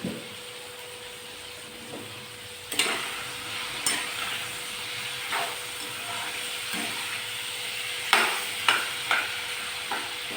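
Diced ivy gourd and brinjal frying in a pan with salt and turmeric, a soft steady sizzle broken by several sharp scraping stirs of a spoon, fairly quiet and close, with no talk.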